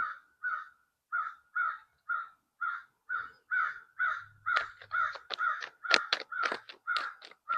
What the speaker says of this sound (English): The crow is like very aggressive today